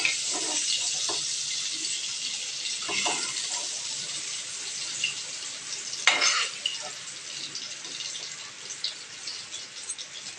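Prawns fry in hot oil in a wok with a continuous crackling sizzle, joined by occasional scraping and clinks as they are stirred and turned, with no one talking.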